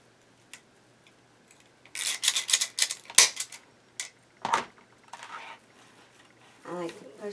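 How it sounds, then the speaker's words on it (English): A plastic zip tie is ratcheted tight around two pieces of mesh in a flower-making craft, a run of rapid close clicking bursts with pauses, ending in a short rustle and a brief voice. "take your zip tie, go around these 2 pieces of mesh"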